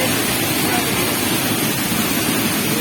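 Steady, dense roar of a waterfall heard from behind the falling curtain of water at La Paz, Costa Rica, loud and continuous without a break.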